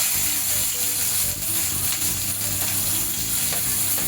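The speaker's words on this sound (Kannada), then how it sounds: "ಶುಂಠಿ ಬೆಳ್ಳುಳ್ಳಿ ಪೇಸ್ಟ್ ಹಾಕೊಂಡಾದ್ಮೇಲೆ ಈರುಳ್ಳಿ ಹಾಕ್ಕೊಳ್ತೀವಿ" Onions sizzle loudly in a pan with ginger-garlic paste for an egg gravy, a thick unbroken frying hiss with faint stirring scrapes, close up and alone.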